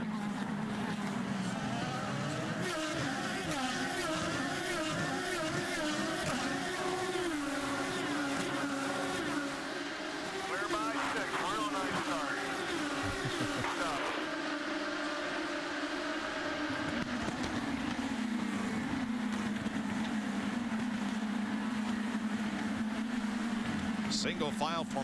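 IndyCar race cars at the 2011 Long Beach street race pass in a continuous engine drone with shifting pitch, heard beneath steady commentary throughout.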